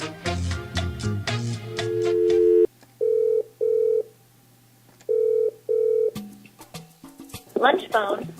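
Telephone dialing with short paired tones in a regular on-off pattern over a steady hum, preceded by a burst of music and followed by a voice speaking.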